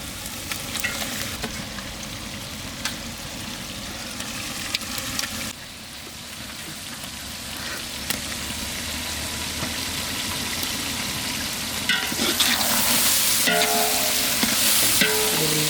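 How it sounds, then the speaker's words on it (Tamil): Quail pieces sizzle and fry in hot oil with sautéed ginger and garlic in an outdoor village kitchen, a steady crackling hiss with occasional stirring scrapes and clatter that grows louder toward the end. "இஞ்சி பூண்டு நல்லா வதங்கினோடனே காடை சேர்த்துக்கலாம்."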